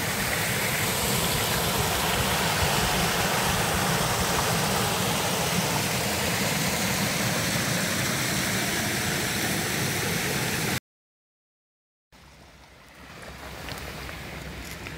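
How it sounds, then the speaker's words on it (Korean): A mountain stream in a valley pours in a loud, continuous wash of water, cut off by a brief silence near the end before the flow returns more quietly. "이거는 사계절 흐르는 물이네"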